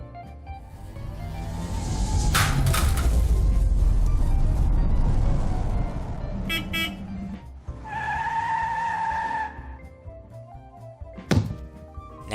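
A Lego Mindstorms EV3 robot with tank treads drives across an all-terrain test track, giving a steady close motor whir and grinding rumble, followed by thunks, a high whine and a sharp knock near the end.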